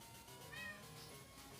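A kitten meows once, a short thin rising cry, close but fairly quiet, with a faint bump at the very end.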